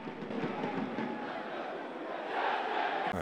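Foggia football fans celebrating a win in the stadium as the team comes to them, a dense, continuous roar of cheering and chanting that swells toward the end.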